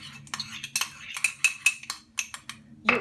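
Drops of hair conditioner stirred in a small dish, a series of light clinks and scrapes as the utensil taps the dish in an irregular rhythm, close and fairly quiet.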